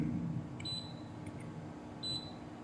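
Multimeter continuity beeps during testing of a bridge rectifier, two short, thin high-pitched tones about a second and a half apart, quiet over a low steady hum.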